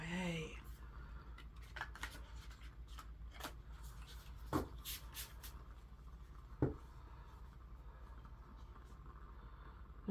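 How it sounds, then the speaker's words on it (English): A very large deck of cards is waterfall shuffled, giving soft riffling and flicking bursts with a couple of sharper slaps, quiet and close against a low steady background. "this deck is very large and is a little bit challenging to waterfall shuffle, but I'll give it a whirl"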